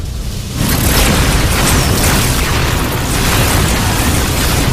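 Low-yield torpedoes explode in a sci-fi adventure film, bursting into a loud, sustained rumbling roar that fills the scene after a brief quieter lead-in.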